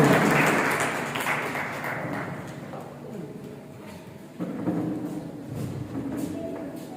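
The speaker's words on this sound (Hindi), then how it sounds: "तो जो तालियों से उनका भी अभिनंदन करते हैं।" Applause at a school hygiene training session honouring the cleaning staff, a moderate round of clapping that tapers off, with a voice talking over part of it.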